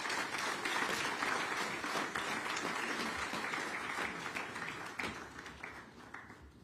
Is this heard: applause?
yes